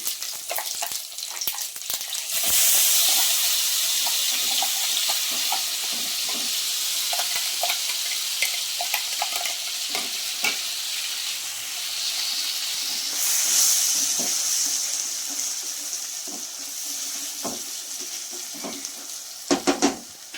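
Cashew paste frying in a pan for a cashew pakoda curry, a steady loud sizzle and hiss with stirring scrapes throughout, a burst of steam midway and a few clinks of the spoon near the end.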